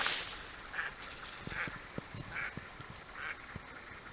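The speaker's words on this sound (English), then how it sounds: "There's the ducks." Ducks call in a swamp along a boreal forest portage trail, a few separate quacking bursts at a moderate distance over quiet woodland background.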